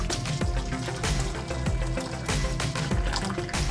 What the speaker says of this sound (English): we're just going to pour this mixture right into the dish